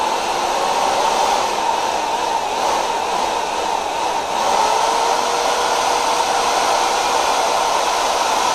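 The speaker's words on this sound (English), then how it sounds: "Alright, so hole is drilled" A power drill bores a hole for wiring during a fog light halo and taillight install on a Camaro SS, giving a steady, close, whirring motor drone that runs unbroken the whole time.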